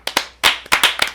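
A few people clap briefly on a podcast, a quick burst of about six or seven sharp, close handclaps in an uneven rhythm, with no talking over them.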